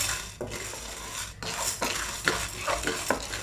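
A spoon repeatedly stirs and scrapes lentils dry-roasting in a pan for Udupi sambar, close metallic clinks and rustling grains in an irregular rhythm with no talk.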